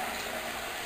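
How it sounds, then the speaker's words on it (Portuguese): Shower water runs steadily as a small child stands under the spray in place of a bathtub, a continuous broadband hiss filling the short moment without any talk. "ela quer ficar que nem uma mocinha debaixo do chuveiro"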